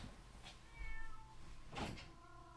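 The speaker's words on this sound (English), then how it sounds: "Like, oh, that was a meow." A cat meows twice, faint and fairly close, with a quiet pause between the calls.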